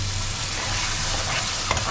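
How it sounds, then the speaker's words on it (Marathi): Freshly ground Malvani masala paste fries in a pan with a loud, dense, continuous sizzle, close up and alone, ending with a brief stir-scrape. "हे 5 ते 7 मिनिटं भाजून घेते आता"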